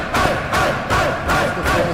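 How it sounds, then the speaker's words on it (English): A goalball crowd celebrating loudly in an indoor hall, rhythmic rising chants and roars surging in repeated waves about every half second, dense and close. "Absolutely impossible to hear anything with such a crowd. Yeah, they are celebrating like this for a goal."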